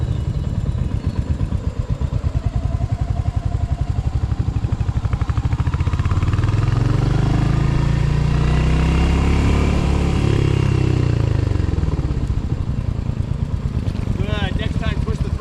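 Motorcycle revving and riding past on an MSF rider training course, the engine rising and falling as it nears and moves off, with people talking over it.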